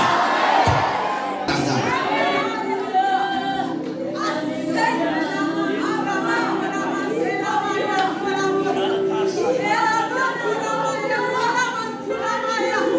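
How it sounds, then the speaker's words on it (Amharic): A church congregation shouts amen back to a preacher, a loud crowd of many voices in a large room that swells and overlaps throughout. "ጮኸ አሜን በላ።"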